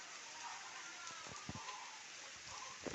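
Light rain drizzles outdoors, a faint, steady soft hiss with scattered drip-like taps and a few low thumps, quiet and diffuse throughout.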